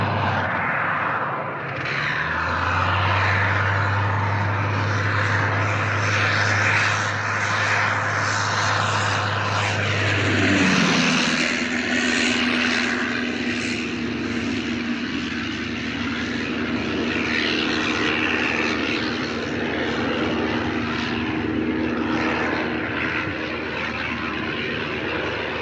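A metal biplane's propeller engine drones steadily close by in flight, its tone shifting partway through as it passes, with a constant whirring hum throughout.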